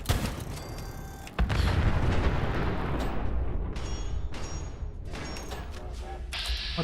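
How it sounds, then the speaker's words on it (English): Gunfire rings out in the post-apocalyptic shooter Fallout 4: a sharp shot is followed by a loud, sustained boom and rumbling echo that slowly fades, with further lighter cracks and faint game sounds trailing after. "Take 2 shots."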